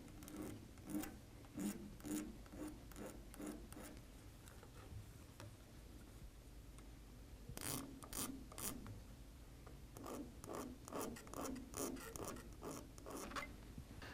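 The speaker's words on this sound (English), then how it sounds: "now that we've gapped the rings and deburred the ends of the rings" A file deburrs the ends of piston rings with short rasping strokes in irregular bursts, quiet and close, with pauses between groups of strokes.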